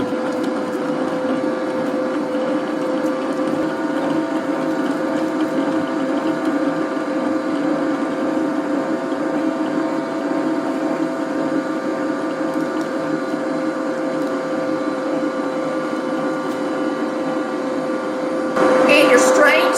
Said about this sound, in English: we're going to start with a stick of room temperature butter and get it in the mixer